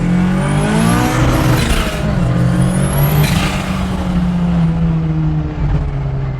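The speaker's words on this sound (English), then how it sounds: "is that the screamer pipe that makes that noise?" A loud 4AGE turbo engine in a Mazda 323 on a dyno revs hard and continuously through a screamer pipe, its harsh exhaust note rising and falling with sharp, crackling bursts throughout.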